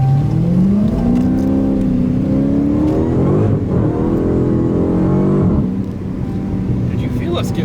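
A car pulls out of a dealership lot with a steady engine drone that rises and falls in pitch as it accelerates, close and loud beneath people talking inside the cabin.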